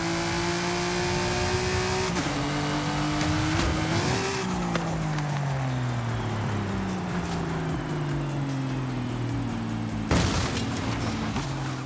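Ultima GTR supercar in Forza Horizon 5, its engine roaring steadily at high revs with gear shifts and rising and falling pitch, a sharp boom or impact near the end, loud and continuous with no talk.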